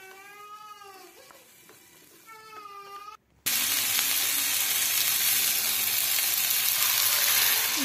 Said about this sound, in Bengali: তো এখন কন্টিনিউ এটাকে এভাবে নেড়ে যেতে হবে, কারণ নাড়ার ফলেই তারপরে এটা একটু ঝলসে মতো যাবে সবজিগুলো